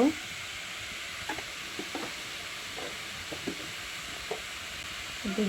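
Food frying with spices, salt and turmeric in a pan gives a soft, steady sizzle close by, broken by a few light scrapes and taps of stirring, with no talking.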